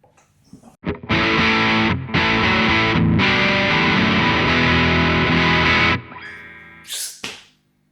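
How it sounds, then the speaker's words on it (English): Electric guitar played through a Fulltone GT500 distortion pedal with the distortion wound back slightly and the highs and mids bumped, giving loud sustained overdriven chords for about five seconds, then a short decay and a brief pick scrape. "I have the distortion past now, and I'm going to wind the distortion back a little bit."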